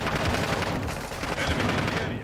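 A decoy grenade in Call of Duty: Modern Warfare II rattles off dense, continuous bursts of simulated automatic gunfire, loud and unbroken throughout.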